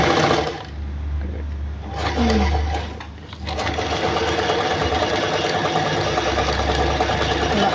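A sewing machine winds thread onto its bobbin with a steady mechanical whir, easing briefly partway through and then running on evenly and close up.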